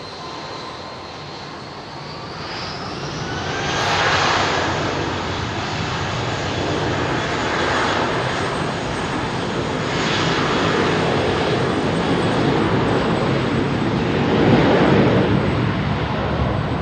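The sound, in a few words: airliner IAE jet engines idling at Heathrow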